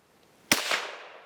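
A single sharp report from a Savage 93 Gen 1 .22 WMR bolt-action rifle fitted with a Vortex scope, fired after light primer strikes; a sudden crack rings out and then decays over about a second, with no voices.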